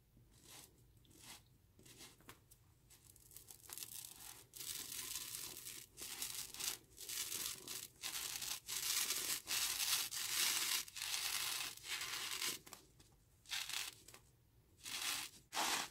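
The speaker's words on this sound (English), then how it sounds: "You can see how that's cutting into the ball." A knife cuts into a football so it can be fixed to a PVC arm, making close, intermittent crunching and tearing scrapes in short bursts with quiet gaps and no voices.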